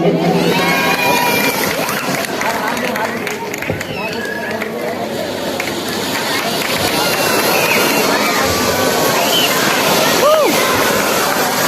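A large crowd at a devotional jagrata gathering in Kanpa cheers and shouts continuously to welcome a guest on stage, a dense loud roar with voices and whistles rising above it throughout.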